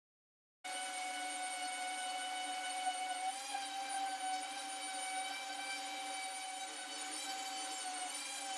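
A power sander works wood for a mobile sound booth, its steady motor whine kicking in after a short silence and running continuously and close without a break.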